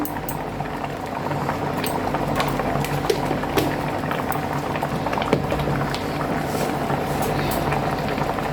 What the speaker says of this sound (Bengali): আমার এটা ফুটছে দেখুন